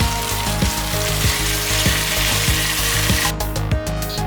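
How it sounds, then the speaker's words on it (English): Steady, loud sizzling and crackling of beef browning in a hot pot for stew, with periodic scraping or clanking knocks over the continuous hiss. "Listen to that sizzle."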